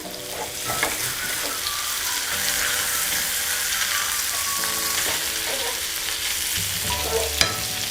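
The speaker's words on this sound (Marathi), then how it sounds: "आता आपल्याला दुसऱ्या साईडने पण फ्राय करून घ्यायचे आहे।" Bangda mackerel fish frying in a pan and being flipped to the other side, a steady close sizzle with scraping and turning clatter and a sharp knock near the end.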